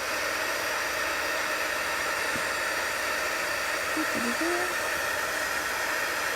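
A handheld craft heat tool blows hot air while making a stamped Christmas card, giving a steady, loud, even whoosh that runs unbroken from start to finish.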